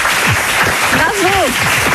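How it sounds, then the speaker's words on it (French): Studio audience applauds graduates who just passed their baccalaureate, a dense wash of clapping with a voice speaking loudly over it throughout. "Vous pouvez les applaudir."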